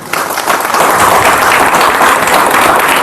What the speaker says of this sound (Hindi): आप लोग से गुजारिश है कि थोड़ा तालियों से स्वागत करें।